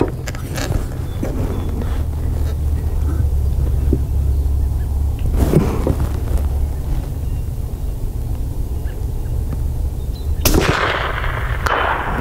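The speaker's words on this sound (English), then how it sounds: "I'm gonna shoot for the white seal target at the very top." A .204 Ruger rifle fires at a long-range target, with sharp, loud cracks standing out against steady outdoor background noise, the clearest shots coming near the middle and near the end.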